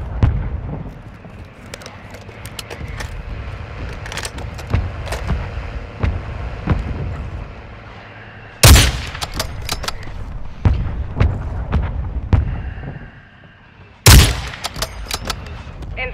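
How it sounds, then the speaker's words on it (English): Mortar strike explosions in a shooter game, a few sharp heavy blasts landing several seconds apart over a bed of scattered gunfire and rumbling battle noise. "Copy that, mortar strike inbound."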